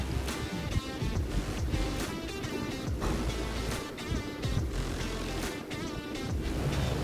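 Ocean waves off the sea fort of Suvarnadurg near Harne port, Dapoli, rolling in as a steady broadband wash of surf mixed with wind noise, continuous and fairly distant, with no voices.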